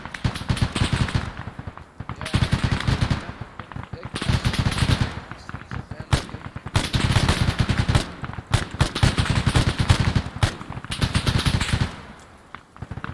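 Heavy weapon fire in Arma 3 Unsung, a Vietnam War game, hammers in long loud automatic bursts separated by short pauses, with voices talking between and over the shooting.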